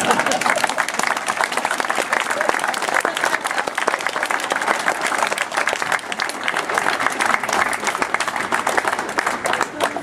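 Steady applause from an audience at an unveiling ceremony in Backnang, following a rhymed speech: dense, continuous clapping that holds at an even level for about ten seconds, with no voices standing out.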